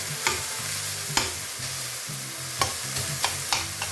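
Ground beef for chilli con carne sizzles in a pan while a utensil breaks it up, sharp scraping knocks landing irregularly every half second or so over a steady frying hiss.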